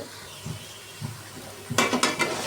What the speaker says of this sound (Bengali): এখন ফুলকপিটা ভালোভাবে কষিয়ে তারপরে মাছের সাথে দিয়ে দিই।